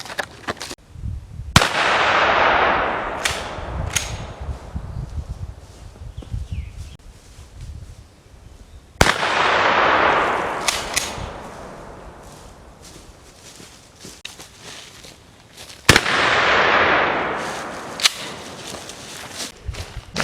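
A shotgun firing 00 buckshot at long range booms three times, each loud sharp blast followed by a long rolling echo fading outdoors, spaced several seconds apart, with faint rustling between shots.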